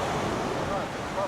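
Ocean surf at Bangtao Beach crashes and splashes close by in a dense, continuous wash of water, with wind buffeting the microphone throughout.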